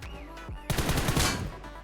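Gunfire in the mobile game PUBG Mobile: after a short quiet stretch, a sudden loud burst of rapid automatic shots rattles for about a second and then trails off.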